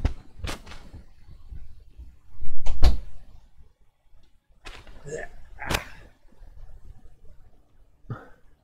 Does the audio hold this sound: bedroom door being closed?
yes